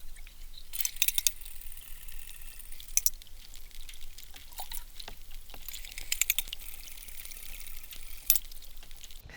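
A spinnerbait fishing lure swimming underwater, its blades giving faint bubbly gurgles with light metallic clinks and ticks recurring every few seconds.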